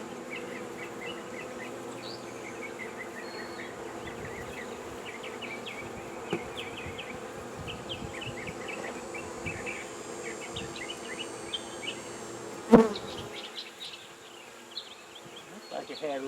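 Honeybees drone steadily inside a hive showing beetles and wax moth damage, a dense close buzz with individual bees zipping past, plus a brief sharp knock near the end.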